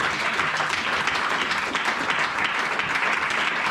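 Steady, dense applause from a church congregation acclaiming the Lord during a fasting and prayer service, sustained and loud throughout with no pauses.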